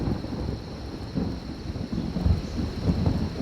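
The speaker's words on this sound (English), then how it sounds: "the storms are now more than most animals might care to see" Heavy thunderstorm at the peak of the rainy season, with deep rolling thunder rumbling continuously beneath steady rain, loud and close throughout.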